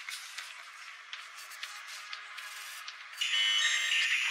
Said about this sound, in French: Quelqu'un a déclenché cette alarme.